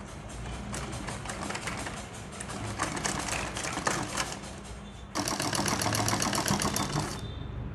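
A sewing machine stitches along the collar of a churidar, making a steady rapid mechanical whir that runs throughout and grows louder and brighter in the final seconds, with no talking.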